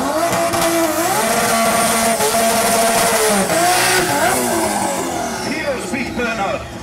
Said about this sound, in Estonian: Here's big burnout.